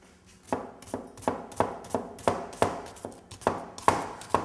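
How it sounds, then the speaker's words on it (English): Knife chopping onions on a cutting board for lemon risotto, about a dozen quick, evenly spaced chops in a steady rhythm, close and clear with no talking. "I want to chop really quick my garlic, actually my onions"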